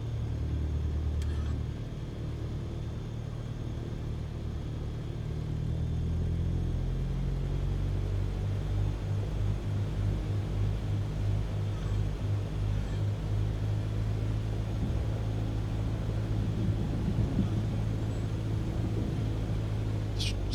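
A Cessna 152 engine drones steadily through its takeoff roll in Microsoft Flight Simulator 2024, a continuous low rumble that swells slightly as power builds, heard alone without voices.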